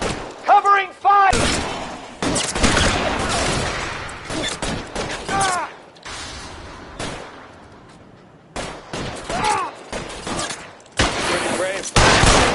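Heavy covering fire erupts in a PS4 shooter game, with repeated loud bursts of gunshots and volleys spread across the stretch, broken by short gaps, while voices shout over and between the shots.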